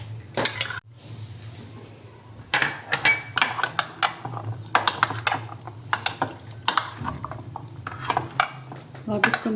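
A spoon clatters and scrapes against a bowl as thinned yogurt is stirred into chana chaat in a home kitchen. The stirring comes in repeated bursts of clinks and scrapes, close and fairly loud, while someone talks between them.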